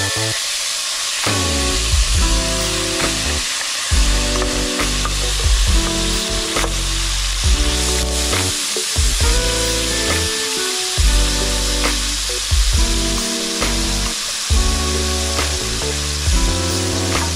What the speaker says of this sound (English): we're going to saute these a little bit